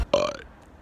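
A single loud, voiced burp from a person, short and close, trailing off into quiet room noise.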